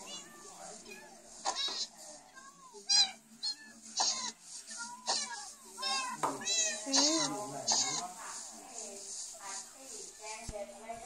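Several cats meow repeatedly inside the Minecraft video game, a string of short, close, fairly loud in-game cries with brief gaps, while a voice speaks over them.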